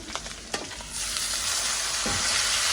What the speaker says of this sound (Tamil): இப்போ நான் தக்காளி பழம் போடுறேன்